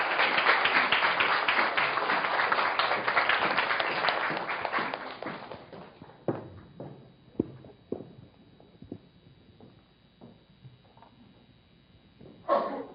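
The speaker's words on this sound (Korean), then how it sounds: "큰 박수 부탁드립니다" A concert audience applauds loudly and steadily for several seconds. The clapping then thins out into scattered claps and a few footsteps.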